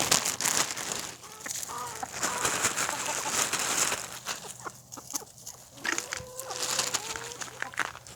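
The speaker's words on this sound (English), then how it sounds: "These are the chickens when I have a treat." Backyard chickens cluck and chatter excitedly as treats are offered, a cluster of short, overlapping clucks and squawks at close range, rising and falling in bursts with a person talking softly at times.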